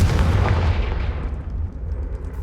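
A Confringo fire spell cast in Hogwarts Legacy lands with a heavy booming blast that rolls off into a fading rumble, loud and close.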